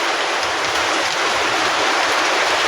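Heavy rain pours down in a dense, steady roar of hissing water, loud and unbroken with no voices.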